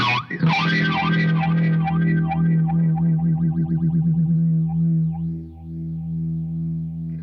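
Guitar run through a Beetronics Larva morphing phaser pedal with its resonance turned down, a distorted chord or note sweeping in a softer, less pronounced phasing wave that slowly decays over several seconds, with no talking.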